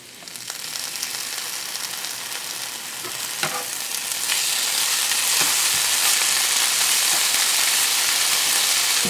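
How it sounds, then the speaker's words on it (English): Minced garlic sizzles steadily in a hot pan for a vegetable dish, a dense frying hiss with a few sharp crackles, growing louder and fuller partway through and staying close and constant, with no voices. "minced garlic's always good to saute it with"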